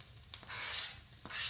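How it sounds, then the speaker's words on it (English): Vegetables hiss and sizzle in a hot pan, with a couple of light stirring scrapes breaking up the frying sound. "I'm going to add that to the frying pan."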